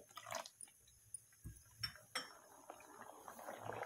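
Quiet kitchen clatter with a few sharp clinks, then a brief hiss and crackle as a spoonful of water hits hot homemade ghee, sizzling softly to the end.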